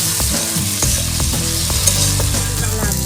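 Ginger-garlic paste and spices fry in a pan over a clay stove in a village-style kitchen, giving a loud, continuous close-up sizzle with repeated scraping stirs and no talk.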